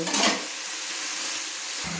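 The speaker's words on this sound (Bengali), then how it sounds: "এবার আমি লাল লাল করে যতক্ষণ না ভাজা হচ্ছে ততক্ষণ একটু নেড়ে নেব" Loud, close sizzling of onions frying in a pan until reddish-brown, with scraping stirring strokes at the start and a steady crackling hiss throughout.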